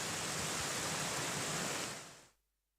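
Floodwater pours through village lanes and roads in Rajasthan as a loud, steady broadband rush, close and unbroken, then fades out abruptly toward the end.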